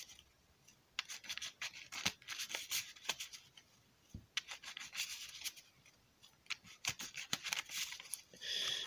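Pokémon trading cards being shuffled by hand while building a 60-card grass deck, a close, quiet run of riffling and rubbing with crisp flicks and taps in an uneven rhythm, no talking.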